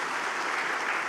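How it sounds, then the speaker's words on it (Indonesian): A talk show audience at a millennial farmers' graduation event breaks into a brief, dense burst of applause for Kang Irfan, loud and steady throughout. "Oh, tepuk tangan untuk Kang Irfan."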